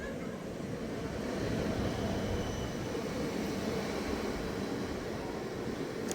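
A train pulling into Köln Messe/Deutz station in Cologne, Germany, giving a steady, close, broadband rumble that holds at an even level throughout with no talk.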